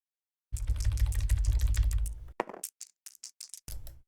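Rapid typing on a computer keyboard, close and crisp: a dense two-second run of keystrokes over a low hum, then a few scattered, sparser clicks.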